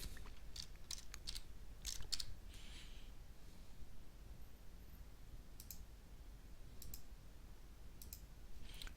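Computer mouse clicks come in quick, close, faint bursts of two or three, scattered irregularly over quiet room tone with no talking.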